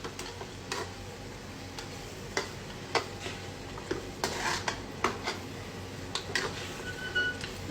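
Chettinad mutton curry with coriander leaves is stirred in a pan: a spoon clinks and scrapes in irregular, close strokes over a faint background sizzle, with no voices.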